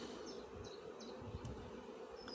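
Honey bees buzz at a beehive during a spring hive check, a dense steady hum from many insects nearby, with occasional individual bees droning past, no talk.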